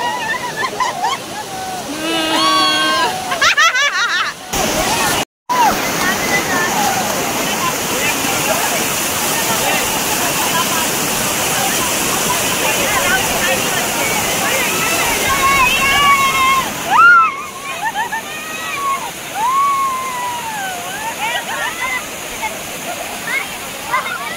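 Water rushing and splashing steadily throughout at Bhushi Dam, Lonavala, with children's excited voices and shouts rising over the torrent as they play in it.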